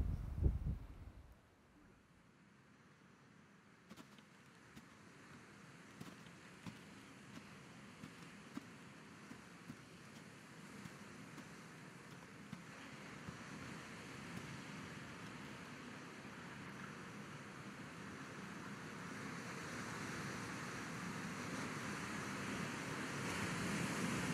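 Waves wash onto a beach beside juniper dunes, a soft, continuous surf rumble that swells gradually louder, with wind and faint scattered clicks.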